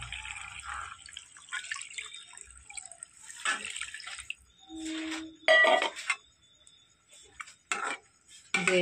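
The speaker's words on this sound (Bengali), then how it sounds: "এবার আপনি এটা পানি হালকা করে দিয়ে দেবেন।" Water poured lightly into a pan of cooking shaiting fish, with a brief splashing pour and scattered clinks and drips of utensils, close and fairly quiet with gaps of near silence.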